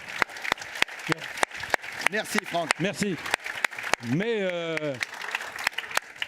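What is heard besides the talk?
audience applauding Franck Provost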